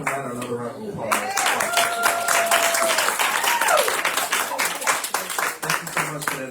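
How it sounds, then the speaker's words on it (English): Applause for a guest speaker at a town hall gathering, dense clapping from a crowd filling the room, steady and loud, with a brief tonal whistle or vocal sweep rising over it midway and the clapping thinning toward the end. "Give Dr. Ryder another round of applause."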